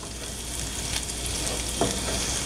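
Chopped garlic and shallot frying in melted butter in a pan, a steady close crackling sizzle with a brief stir partway through.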